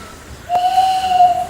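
A single steady whistled tone, imitating a tawny owl's hoot, held for about a second with a slight waver, fairly loud and close, during a student stage show at an agricultural high school.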